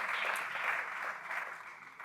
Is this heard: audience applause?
yes